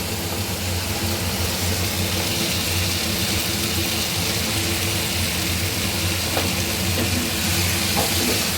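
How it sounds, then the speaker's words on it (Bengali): Potatoes frying in a pan of cooked-down tomato masala for an egg curry, giving a loud, steady broadband sizzle with a low hum running underneath and no voices. "আলুগুলোকেও কষিয়ে নেব।"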